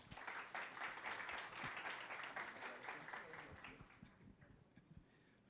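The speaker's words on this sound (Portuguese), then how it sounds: "Uma salva de palmas." An audience at an evening philosophy café on spiritism gives a dense burst of applause that tapers off toward the end, with faint murmuring as it fades.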